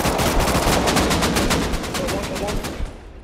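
Sustained automatic AK rifle fire in the video game Rust rattles loudly and continuously, a rapid dense stream of shots that fades slightly near the end.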